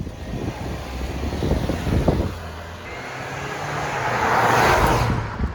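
A 2022 Ford Maverick XLT compact pickup drives along, its engine and road noise heard from inside the cabin as a steady rumble that swells slightly near the end.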